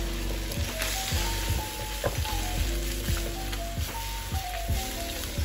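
Eggs frying in an oiled, preheated pan for Japanese omurice, a bright close sizzle with repeated scraping and stirring strokes in an uneven rhythm, and faint background tones running beneath.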